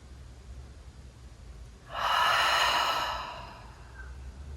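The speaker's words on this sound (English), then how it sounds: "See if you can take 2 more breaths like that." A single deep yoga breath, a long audible exhale like a sigh out through the mouth, heard once near the middle of a gentle neck and shoulder session, close and soft, with quiet room tone around it.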